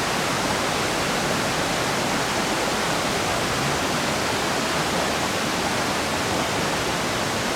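A river in the Great Smoky Mountains rushes loudly and steadily, with a dense, unbroken roar of close flowing water and no voices.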